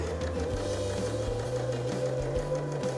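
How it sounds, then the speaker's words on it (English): A sewing machine stitches on scrap fabric for a quarter-inch quilting seam: a steady low mechanical whir with a rapid rhythmic hum, close and moderately quiet, running without pause. "I'm gonna hit my start stop button. And I'm gonna stitch out on scrap."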